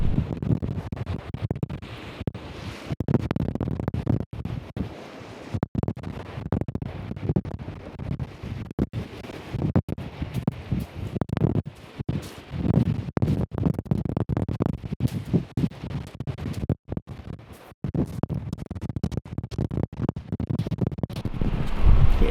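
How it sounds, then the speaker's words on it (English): Strong wind buffets the microphone on a winter beach at Fort Gilkicker in Gosport, a loud, rough, gusting roar with rumbling low thumps that continues unbroken and close throughout. "It's really windy today."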